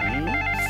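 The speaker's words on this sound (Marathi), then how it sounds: "तर वाजला की फोन काय करू?" Telephone ringing indoors, a short electronic warbling ring heard close and clear, lasting under a second with no talking over it.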